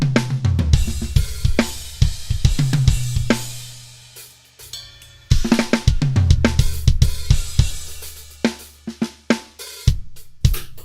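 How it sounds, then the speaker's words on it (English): A drum part for a gospel track intro, with punchy kicks and crisp snare and cymbal hits in a steady groove, a short drop partway through and then the full beat returning, loud and without talk. "I literally just played this drum part."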